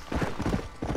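Horse hooves clip-clop at a steady trot in the Red Dead Redemption video game, close and fairly loud with a dense low rumble beneath the hoof beats.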